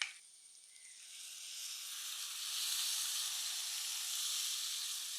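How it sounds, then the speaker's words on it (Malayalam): Tamarind water hits a hot pan of roasted spice powder with a sudden hiss that settles into a steady, soft steaming sizzle, building slightly and holding. "പുളിവെള്ളം ഒഴിക്കാം"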